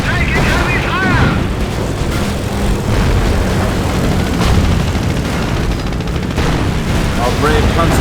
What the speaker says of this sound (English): With this ability, Henschel aircraft will fly by the target location, targeting all enemies within their flight path.